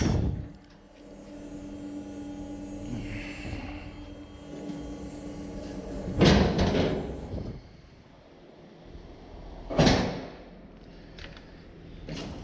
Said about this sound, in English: And close the doors.